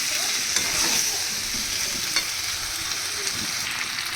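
Spice masala for a potato and green pea dum, cooked in a little oil, sizzles steadily in a pan while being stirred, a close continuous frying hiss with faint scraping clicks, no voices.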